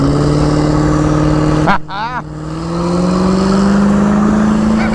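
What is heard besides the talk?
car engine revving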